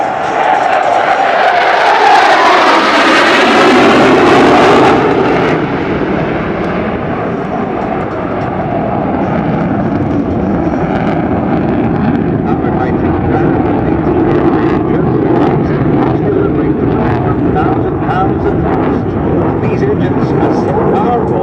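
An F-111 jet roars overhead in a flying display at the Singapore Air Show, loud and sweeping past before settling into a sustained distant rumble, with a commentator talking over it.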